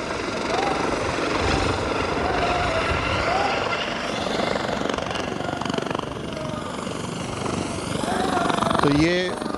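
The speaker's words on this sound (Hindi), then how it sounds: "बसपा अध्यक्ष मायावती का हेलीकॉप्टर फिलहाल यहां पर पहुंचते हुए और अभी हेलीपैड पर लैंड करते हुए," Helicopter landing on a helipad, a steady, loud rotor and turbine roar throughout with a constant rhythmic thrum, a voice talking over it, and a brief higher whine near the end.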